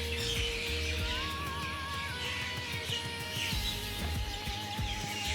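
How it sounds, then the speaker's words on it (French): Birds chirping in a garden setting near a huge banyan tree, with several thin whistling calls over a steady, dense background of outdoor noise and low rumble. "Je vous laisse avec mes oiseaux"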